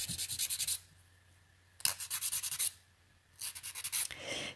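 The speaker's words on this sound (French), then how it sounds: "Je relime encore un petit peu sur l'avant pour affiner," A file rubbing over a gel nail extension, rounding and refining the front edge: three bursts of quick, close, rhythmic rasping strokes separated by short quiet pauses.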